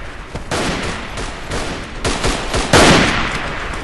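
Bursts of rapid gunfire crackle in quick succession, loud and dense, with a heavier blast near the end, in the video game Verdun; the shots sound game-like and close.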